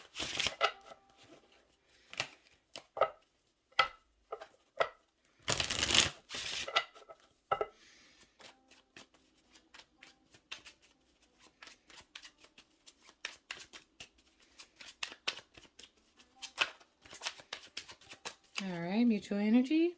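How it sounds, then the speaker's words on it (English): Brisk riffling and soft slaps of tarot cards being shuffled, in quick bursts scattered between spoken words. "let me do a shuffle here."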